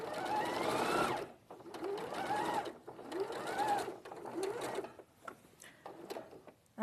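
A sewing machine stitches around curves in bursts, its motor whirring up and easing off with each run, loud and close, with a little faint voice-like sound near the end.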